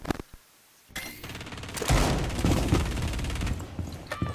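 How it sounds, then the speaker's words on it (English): Gunfire in a Rainbow Six Siege match at Bartlett University, near a piano room: a few sharp single shots, then a sustained loud burst of rapid automatic fire that rattles on to the end. "They're shooting at you."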